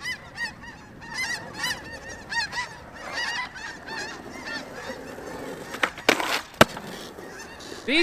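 Geese honking repeatedly at a skate park, a series of loud nasal calls in bursts, with a couple of sharp knocks near the end and no talking.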